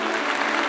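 A studio audience claps loudly and steadily for a magician coming on stage, a dense burst of applause lasting under a second.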